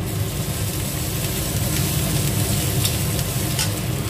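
Crushed ginger hits a pan of frying rawa dosa mix, a steady dense sizzle of hot oil with faint stirring scrapes, close and continuous with no talking.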